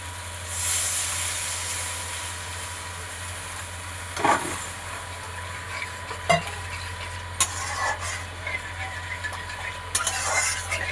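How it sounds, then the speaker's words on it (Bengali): Water poured into fried spice paste in a pan while cooking a Bengali fish jhal curry. A sudden hissing sizzle rises, followed by scattered crackles and spits over a steady low background hum. "এবার দেব জল।"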